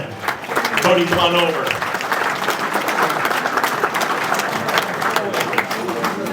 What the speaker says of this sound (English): How about another round of applause for the top 10?